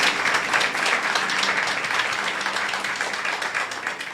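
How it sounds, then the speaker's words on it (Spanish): A church congregation applauds together in a dense, steady burst of clapping that carries on evenly for several seconds, with no one talking over it. "¿Cuánto le pueden dar un aplauso al Señor?"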